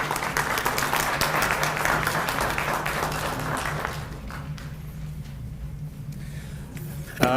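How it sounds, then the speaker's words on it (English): Applause from the audience at a community grant public input session in Valemount, steady broadband clapping that gradually thins and fades over several seconds, with a low steady hum underneath and no speech. "Well, big thanks and round of applause for the Robson Valley Spay and Neuter Society then."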